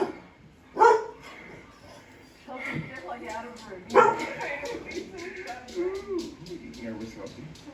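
A puppy gives a few short, fairly quiet barks and yips indoors, mixed in with steady nearby talk from people.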